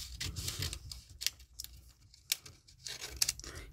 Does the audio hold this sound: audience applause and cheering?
no